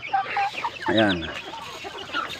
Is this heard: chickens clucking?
yes